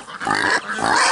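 Pigs on a farm give loud, close grunting oinks in two quick bursts, with nothing else heard around them.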